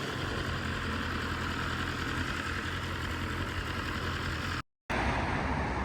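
Motorcycle engine runs steadily at a low idle-like drone, close and continuous, with a brief dropout near the end before riding off to a motorcycle shop.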